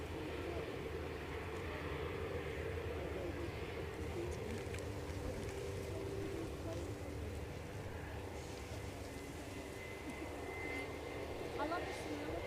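A Ryanair Boeing 737 MAX 8200 at Edinburgh Airport produces a faint, continuous engine rumble in the distance while people talk nearby.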